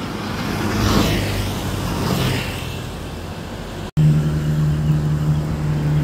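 A Starbus intercity bus on the Purwokerto route pulls into Slawi terminal during the 2024 pre-Lebaran homecoming rush, its engine rumbling steadily and close by, with a sharp cut midway followed by a louder low hum.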